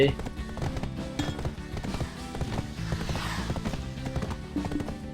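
Horse hooves clip-clop in a steady galloping rhythm while riding a horse in the video game Black Desert Online, layered with game music and effects and continuous at a moderate level.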